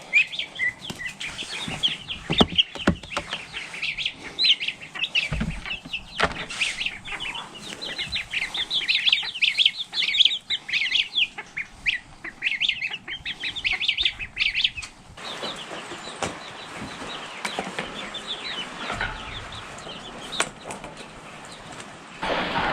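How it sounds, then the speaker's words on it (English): Ducklings and chicks hatched on the same day peep in a shop brooder, a busy stream of high chirps with scattered wing flutters and rustling close by. "Look how big these ducks are compared to the chicks."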